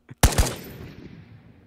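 Gunfire in the video game Ghost of Tabor: a faint pop, then two loud, sharp shots in quick succession with a long echoing tail fading out, no voices.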